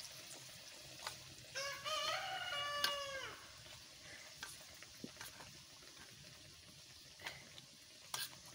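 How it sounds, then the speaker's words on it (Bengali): An egg stick kebab fries in a pan with a faint, steady sizzle, broken by a few soft clicks of utensils and a brief bird chirp in the background. "তারে ধরে ভাজি নিচ্ছি"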